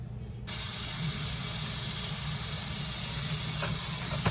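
Steak searing with a small knob of butter in a hot pan gives a steady, close broadband sizzle that starts abruptly after a short quiet moment and holds evenly, with a few faint pops near the end.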